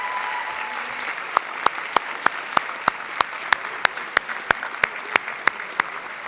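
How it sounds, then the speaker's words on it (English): Applause at a township council meeting for the Jackson Police Department: a soft crowd wash under a series of loud, evenly spaced single claps, roughly three per second, building through the clip. "let's have a round of applause for the JPD"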